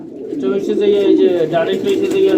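Soft, low pigeons cooing in a continuous rolling murmur, close by, with faint background voices.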